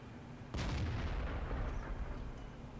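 A tank cannon fires once in World of Tanks, a sudden loud boom followed by a long rumbling, echoing decay.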